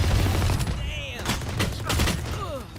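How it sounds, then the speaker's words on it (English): Missiles launched in a first-person shooter match, a rapid, loud volley of blasts and whooshes layered over a low rumble, with faint game voices in the mix. "All missiles away."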